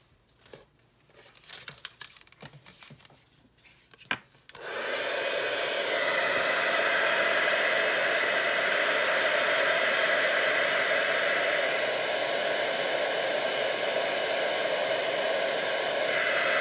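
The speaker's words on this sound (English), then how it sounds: "Then we'll heat set that." A heat tool heat-setting ink on stamped paper starts with a click after a few seconds of quiet handling rustle, then blows as a loud, steady whooshing roar held close for the rest of the clip.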